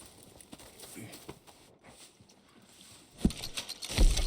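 A workhorse's hooves clip-clopping at a stable in Red Dead Redemption 2, scattered soft hoof knocks and shuffling, growing louder and heavier toward the end, with no voices.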